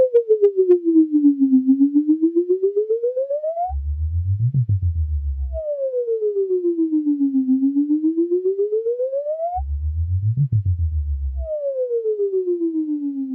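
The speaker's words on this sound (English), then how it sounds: "Flanger can sound a bit funny." A smooth electronic flanger tone from a Casio VA-10 keyboard sweeps down and back up in a slow swooping wave, broken twice by a buzzy low thudding burst, loud and alone.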